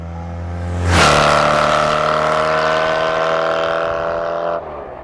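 A lumpy old air-cooled motorcycle engine starts up and runs at a steady, loud drone for several seconds before dropping off near the end, with no talking.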